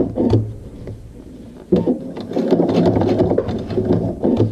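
A sewing machine runs in short bursts while stitching binding onto a quilt at a stitch length of 3, a close whirring mechanical chatter with brief pauses between runs.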